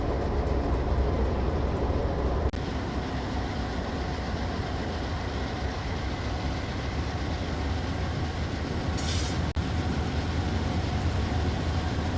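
A train cruises at an easy throttle down a long straight section of track, producing a continuous loud rolling rumble with a broad steady hiss and a couple of faint clicks.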